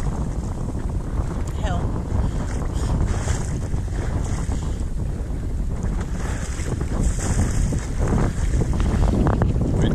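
Steady wind buffeting the microphone aboard a sailboat in a force 3 breeze under sunshine, heading through Cuan Sound in Scotland, with water rushing along the hull; a continuous, fairly loud wash with no clear speech.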